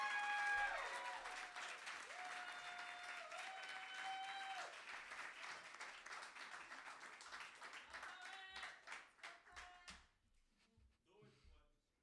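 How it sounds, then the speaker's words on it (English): Audience applause fills a slam poetry championship in Canada, a dense, steady wash of clapping mixed with cheers and voices that carries on for several seconds before thinning into scattered claps and dying away. "Let's keep the energy up, keep those applause going"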